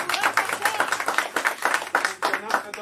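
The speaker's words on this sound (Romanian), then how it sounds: "Aplauze pentru doamna Aurelia." Applause with dense clapping from a crowd at a charity fundraiser for children with disabilities, steady throughout, with voices mixed in underneath.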